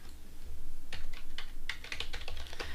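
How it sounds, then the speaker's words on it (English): Quick bursts of keystrokes on a computer keyboard as a command is typed, a close, crisp run of clicks in uneven clusters with short pauses, no voices. "simply type in MSF console"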